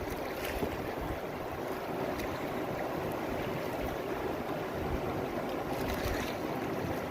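Paddle strokes on open water in a backyard provincial park, wind pushing against the boat, with steady watery wash and wind noise running continuously at close range.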